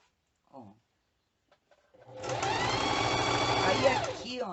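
Sewing machine running a steady stitch through plastic sheeting for a medicine wallet, starting after a brief quiet pause and a short word, then buzzing continuously and fairly loud to the end.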